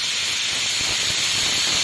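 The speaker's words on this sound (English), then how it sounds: "Waiting for the second whistle." A pressure cooker holding broken wheat upma vents steam in a steady, continuous hiss. The sound is close and fairly loud, with no break through the short clip.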